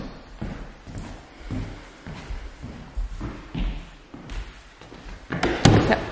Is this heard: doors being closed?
yes